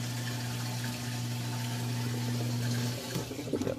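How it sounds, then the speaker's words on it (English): A Frigidaire front-load washer in a stacked washer and dryer set drains out water: a steady pump hum with rushing, gurgling flow that stops near the end, followed by a few faint clunks. "Yep, draining out all the water."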